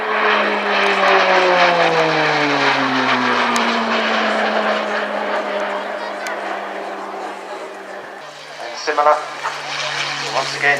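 A propeller training aircraft drones loudly overhead at the RAF Cosford airshow, its engine pitch sliding downward as it passes, with a commentator talking over the sound.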